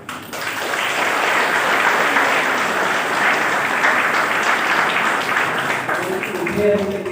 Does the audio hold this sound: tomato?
no